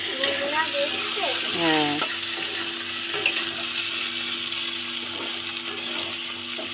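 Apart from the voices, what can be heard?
frying potatoes with fish head in a pan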